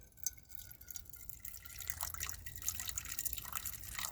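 Water trickles and drips from a Sawyer Mini filter into a container, a faint close patter of small droplets that thickens into a steadier dribble, with no voices.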